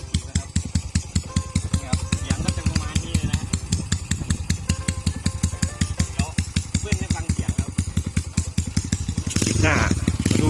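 A Honda Wave 110 motorcycle engine runs at a steady, rapid idle, its loud, even thumping filling the whole stretch, with a brief louder surge near the end.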